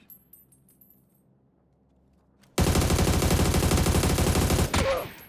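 Automatic gunfire in PUBG breaks out after a quiet stretch: a loud, rapid, sustained burst of shots that lasts about two seconds, then cuts off abruptly.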